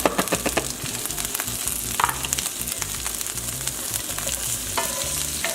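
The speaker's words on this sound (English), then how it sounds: "Alright, so now we're going to add the beans." Beans are added to a pasta e fagioli pot and stirred, with continuous sizzling and a clatter of utensil scrapes at close range.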